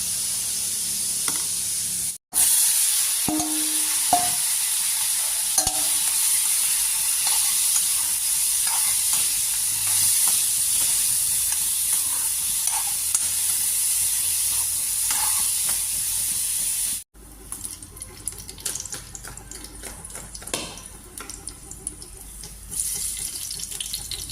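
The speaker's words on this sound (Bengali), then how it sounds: "খিচুড়ি বসাইছি" Khichuri of rice and lentils cooks in a pot, a continuous bubbling sizzle with occasional scraping stirs and watery splashes, steady and close, with no talking.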